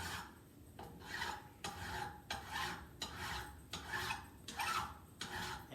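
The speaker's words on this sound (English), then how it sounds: "you're going to have quite a bit of filing to do" Metal file rasping across a steel hammer head in long, regular back-and-forth strokes, about seven passes, close and fairly quiet with no talking.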